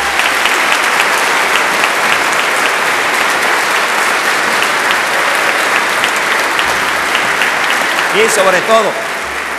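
A church congregation applauds two priests at a Sunday Mass on the fourth Sunday of Easter. Dense, loud, sustained clapping fills the room, and a voice briefly rises over it near the end.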